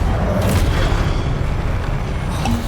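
A loud, sustained booming blast from the Confringo explosion spell in a wizard video game, a dense rumbling roar lasting a few seconds without pause.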